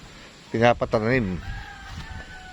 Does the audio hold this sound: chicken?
yes